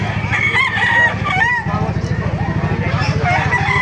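Roosters crow over and over at close range, overlapping one another, at a fighting-cock market in Baliuag, Bulacan, with a busy mix of background chatter and low engine rumble underneath.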